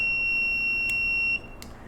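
The buzzer of an ESP32-based smart home fire alarm gives a steady, loud high-pitched tone for over a second, then cuts off abruptly, leaving quiet room noise.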